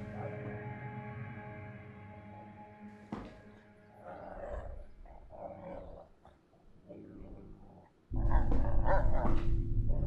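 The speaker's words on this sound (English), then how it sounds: "Is that a dog?" A dog in a video game growls and barks in a string of rough bursts over a background drone, ending with a loud, sustained roar-like stretch.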